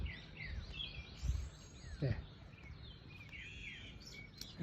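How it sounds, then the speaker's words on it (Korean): Birds chirp and sing in quiet Korean countryside at night, with several bright, warbling calls from more than one bird, soft and somewhat distant, broken by a couple of low thumps and a faint murmur of speech. "새소리도 아름답죠?"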